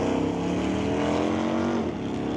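A Camaro and a 1990 Ford Mustang launching down a drag strip at an NHRA event, loud sustained engine roar with rising tones that blankets the whole short moment.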